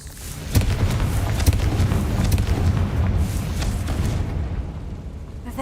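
Confringo spell explosions in Hogwarts Legacy, a steady roar of fiery blasts and booming impacts with repeated bursts that fill the whole stretch at a loud, constant level.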